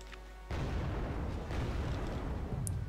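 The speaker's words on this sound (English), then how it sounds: "Another missile hit." Missile strikes explode in the real-time strategy game Wargame Red Dragon, a sudden loud boom kicking in after a brief quiet moment and rolling into continuous heavy rumbling blasts.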